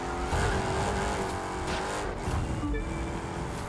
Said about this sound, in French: Et le son moteur, je le trouve vraiment sympa.